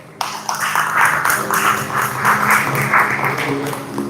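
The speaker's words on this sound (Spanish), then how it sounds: "Denle un aplauso al Señor." A church congregation claps together during a Spanish-language sermon. Rhythmic group applause starts abruptly and keeps a steady pulsing beat, fairly loud and close.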